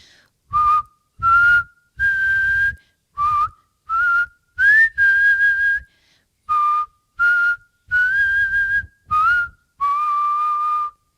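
Someone whistles a simple tune, a series of short, clear notes separated by brief pauses, close and loud with no talking.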